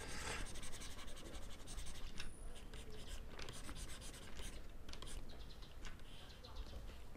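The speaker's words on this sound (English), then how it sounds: "I just want to sketch something out." Stylus scratching and scribbling across a drawing tablet surface for a paperless animation sketch, a steady close-up scratchy texture running continuously with short bursts of strokes.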